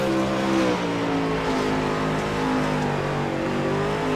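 A dirt late model race car, the 00 machine, roars at full throttle around the half-mile Eldora Speedway, its loud, steady engine drone heard from on board with slight pitch shifts as it drives deep into turns one and two.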